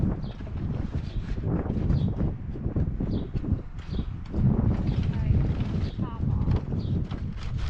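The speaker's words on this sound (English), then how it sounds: "Really windy, so I hope the wind doesn't blow it away." Steady gusty wind roars across the microphone with low rumbling buffeting throughout, with faint scattered bird chirps in the background.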